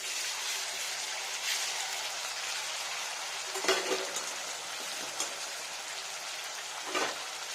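A steady sizzle of spices frying in hot oil fills the clip, broken by a few brief clinks and scrapes of a utensil.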